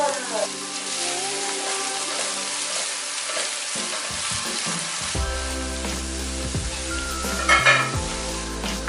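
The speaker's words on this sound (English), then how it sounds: "To our coconut oil, we are going to add the remaining ginger and the onion." Ginger and onion frying in coconut oil, a steady loud sizzle with stirring scrapes and a clatter near the end, alongside a background hum.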